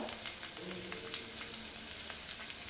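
Whole garam masala spices, carrot, green chilli, tomato, onion and curry leaves frying in ghee for moong dal khichdi, giving a soft, steady sizzle with faint crackles and no voices.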